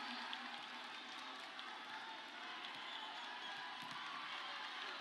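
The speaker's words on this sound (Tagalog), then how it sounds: "the crowd grows wild for Thailand" A continuous roar of cheering and applause fills an arena as a crowd goes wild for Thailand during the AVC U23 2015 women's volleyball final against China, steady and distant with no distinct voices.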